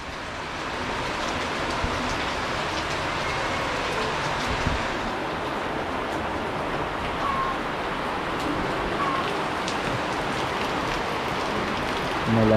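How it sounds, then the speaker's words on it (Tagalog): Heavy rain pours steadily around a house, a continuous dense patter and hiss that stays loud throughout, with a few faint distant tones over it. "Umulan na naman."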